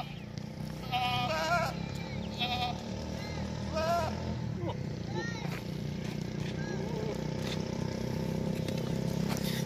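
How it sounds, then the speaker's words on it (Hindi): Goats at a livestock sale in Dera Ghazi Khan bleat several times in short wavering calls over a steady engine-like drone, with someone talking over them. "तीसरा ये आ रहा है बकरा"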